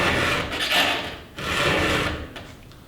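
A hand file scrapes down over a chainsaw tooth's depth gauge in two close rasping strokes, near and fairly loud, with no talk.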